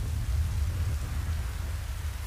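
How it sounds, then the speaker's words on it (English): Steady rain in an anime episode of My Hero Academia, a low continuous rumbling wash of rainfall with no voices, moderately quiet. "It's raining."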